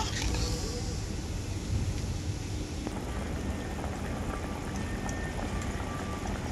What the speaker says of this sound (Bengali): এরপর আমি ঝোলটাকে খুব ভালো করে ফুটিয়ে নেব